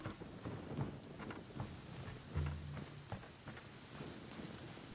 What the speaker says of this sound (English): of course it's starting to rain